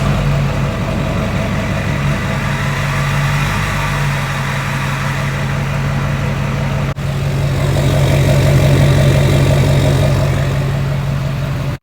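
A Duramax diesel swapped into a K5 Blazer idles with a deep, steady rumble through a 4-inch straight-pipe exhaust from the turbo back, loud and close, briefly rising in intensity partway through.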